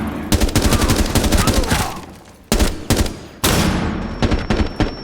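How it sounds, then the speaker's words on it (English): A G36C rifle in Rainbow Six Siege roars on full auto in dense, rapid bursts, loud and close, with brief pauses between strings of shots. "So the gun is pretty accurate when you use single shot fire, but you do full auto."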